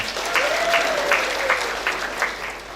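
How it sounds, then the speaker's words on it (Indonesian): Clapping from the audience at a university graduation ceremony, steady and moderately loud, with a voice briefly audible over it. "Coba tepuk tangan untuk kita semuanya"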